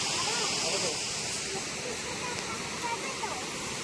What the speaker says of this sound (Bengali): আওয়াজটা কত সুন্দর দেখ। ওই যেখানে জল পড়ছে